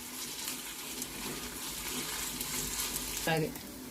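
A paste of green chilli, cumin and garlic fries with onions in a pan, giving a steady crackling sizzle, with a brief stirring scrape near the end.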